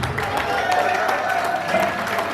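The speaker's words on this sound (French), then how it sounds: "Applaudissez fort." Steady crowd applause at a civil wedding ceremony, dense clapping throughout, fairly loud, with a voice faintly mixed in underneath.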